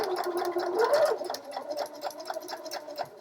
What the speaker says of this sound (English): we're doing our back stitching and then we're going to stitch all the way along